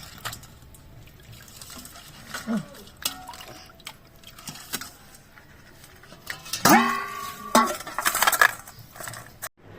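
Live crabs being washed in a pot of water, with intermittent sloshing, splashing and clinking against the pot, growing louder and busier toward the end as the water is stirred and changed.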